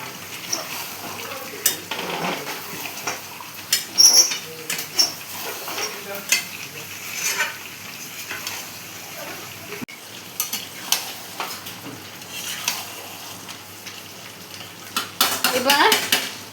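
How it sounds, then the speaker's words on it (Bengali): Mutton and potatoes sauté in hot oil in a pot, with a soft sizzle under repeated scraping and clanking of a metal spoon against the pan, close by, with no voices. "তেল ছেড়ে এসছে, আলুগুলো দিয়ে দিলাম, দিয়ে আর একটু কষা হোক।"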